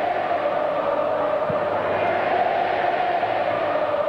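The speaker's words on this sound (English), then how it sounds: "And aren't the crowd loving it?" A football crowd at a 1996 West Coast versus Carlton qualifying final in Perth roars in a steady, distant wash of cheering that holds at an even level throughout.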